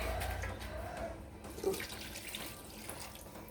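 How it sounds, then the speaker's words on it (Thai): Water poured into a pot of bamboo shoot curry with chicken feet, a steady running pour that splashes softly and carries on throughout, fairly quiet. "เติมน้ำเล็กหน่อยกันเด้อค่ะ"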